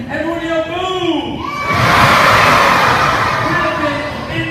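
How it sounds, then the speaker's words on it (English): A crowd of elementary school children yells together at a kindness rally, a loud sustained group shout that swells to a peak and holds, with earlier rising voices and adult speech before it. "Everyone yell boom!"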